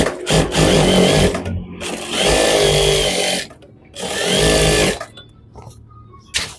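Sewing machine stitching the leg seams of pajama trousers, loud close motor runs of a second or more broken by short pauses, in several bursts.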